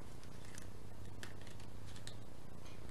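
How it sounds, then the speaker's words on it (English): Rapid, crisp riffling and flicking of oracle cards being shuffled, a continuous papery patter for a few seconds, close by. "we're going to go ahead and give these cards a shuffle"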